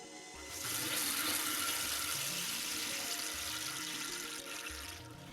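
CSI water softener cycling into backwash while in bypass, water rushing and hissing steadily and loudly from start to finish with a faint mechanical undertone.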